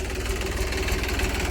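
A tractor engine running on a farm in a steady, throbbing low drone with a slight knocking pulse, close and continuous with no talking.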